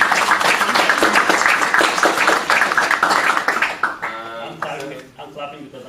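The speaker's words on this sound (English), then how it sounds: "I'd like if we could all give a round of applause to Samir" A room of attendees at a Drupal training day at SF State applauds for Samir with a dense stretch of clapping that thins into scattered claps near the end, while a voice talks over part of it.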